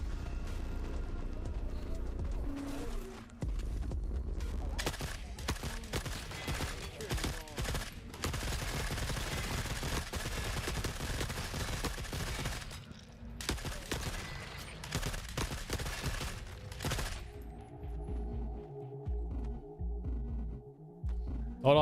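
Sustained bursts of automatic gunfire from the video game Forever Winter rattle on and off across a long stretch, with pauses for reloading and game sounds in the gaps.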